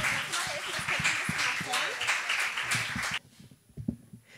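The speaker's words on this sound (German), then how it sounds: "Großen Applaus." Audience clapping at a concert-style evening at MensaBar Freiburg, a dense burst of applause with a voice talking over it, cutting off abruptly partway through, then a few scattered claps under quieter talk.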